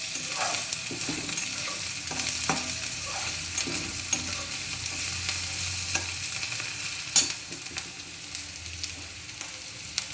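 Onions frying in a pan for beet and carrot cutlets, a steady close sizzle with scattered clicks and scrapes of stirring, no voices.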